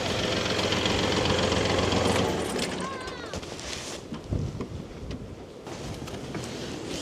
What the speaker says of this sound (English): I was on the tractor too while I let it warm up.